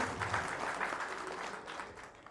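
A steady wash of clapping from a crowd at a company event for electricians, continuous and fairly even throughout.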